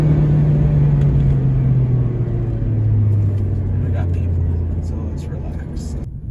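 A Mazda MX-5 Miata sports car engine from 2018 gives a loud, close rumbling drone whose pitch sags through several seconds, with a few faint clicks near the end and a sudden drop-off at the very end.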